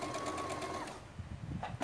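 A sewing machine stitches in a steady rapid whir, then slows into separate short chattering bursts as it backstitches a seam on a cloth doll.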